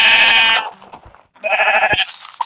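Sheep in the video game Minecraft bleat twice in quick succession, two loud, close, wavering cries separated by a short pause.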